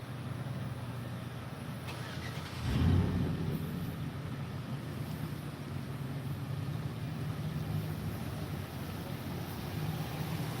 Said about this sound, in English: Just leave it sitting there idling.